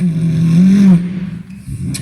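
A beatboxer at a street festival vocally imitates a toy car engine, a buzzing hum that rises in pitch then breaks off into sputtering, rough mouth noises, loud and close.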